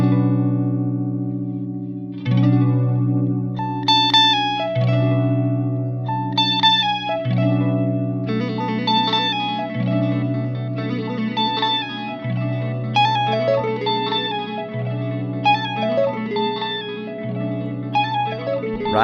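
Guitar played through a delay pedal set to 2.5 seconds of delay, each clearly picked bass note and melody phrase repeating in long, evenly spaced echoes that stack up over steady low notes, loud and without talk.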